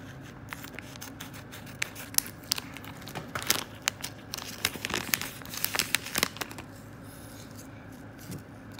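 Plastic packaging crinkling and tearing as a cheap Daiso military-style quartz watch with a plastic case and NATO strap is unboxed, with irregular close crackles and a few sharper rips, no talking.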